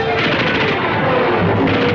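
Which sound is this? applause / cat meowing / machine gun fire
machine gun fire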